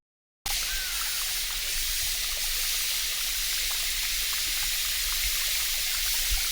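Water from Rupasi waterfall in Chittagong, used for washing the face, rushes in a constant bright hiss and splash, near and steady throughout with no voices.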